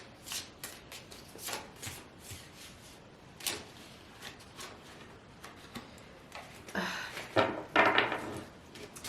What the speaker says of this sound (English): Sorry about the shuffling.